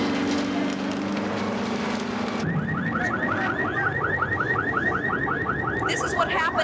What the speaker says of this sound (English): Burglar alarms were set off.